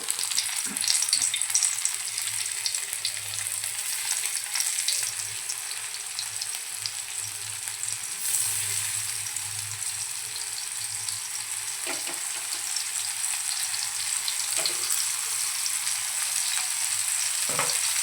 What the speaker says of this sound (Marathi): इथे पहा तेल छान गरम झालं आहे त्यामध्ये आपण बोंबील सोडूया